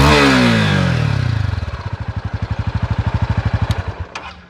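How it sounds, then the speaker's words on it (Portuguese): A Honda Sahara 300 motorcycle engine is revved up close, then drops back to a steady, throbbing idle with even loud pulses, before a final blip and a few light clicks near the end. "na hora que eu estou acelerando e mostrando o ronco para vocês"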